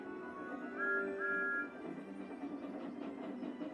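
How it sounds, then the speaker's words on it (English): A steam tank engine rolls along a railway line, its short two-note whistle sounding twice early on over a steady chuffing, rumbling ride that carries on at moderate loudness. "Who's that puffing down the track?"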